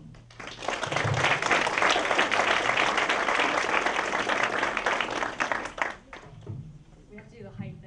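An auditorium audience breaks into loud, steady applause to welcome a police officer speaker. The clapping is dense and sustained for several seconds, then fades as a voice begins talking.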